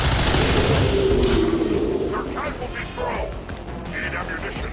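A soldier's gunshot in XCOM 2 finishing off a wounded enemy, a loud burst of gunfire and crashing impact at the start that decays into lingering rumble and faint debris sounds.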